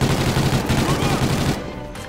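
Rapid bursts of Vector SMG submachine gun fire in the shooter game Call of Duty: Ghosts, dense and continuous for about a second and a half before tailing off, loud and close.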